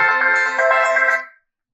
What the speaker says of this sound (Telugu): గట్టిగా 1 2 3 4 5 6 7 ఇచ్చాడు రింగ్ టోన్లు.